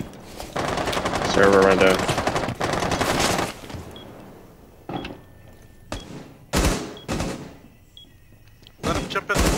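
Automatic gunfire in Rainbow Six Siege on the Club House map, a long sustained burst followed by several short sharp volleys, with a player talking in between.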